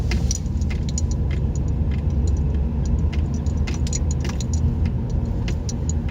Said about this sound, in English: A Malibu with a V6. High output V6 from GM.